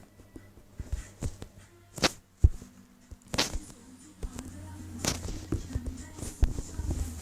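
Minecraft explosions go off as a series of sharp, booming bursts, several loud blasts spread irregularly over a few seconds with smaller crackling hits between them.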